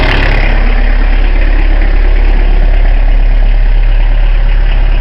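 A car engine idles steadily and evenly, its continuous low rumble and hum close and loud, with no misfiring or knocking, running alone without any voices.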